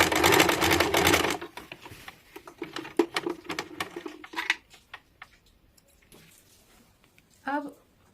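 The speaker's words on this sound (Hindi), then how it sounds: "इस प्रकार से मोड़ के सिलाई कर लेंगे" A sewing machine runs in a loud burst while stitching a folded seam on a six-panel petticoat, then falls to scattered clicks and handling taps, with a short voice near the end.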